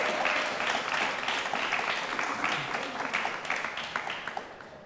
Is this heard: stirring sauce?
no